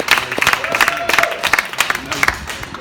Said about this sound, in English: So massive round of applause for Harry White.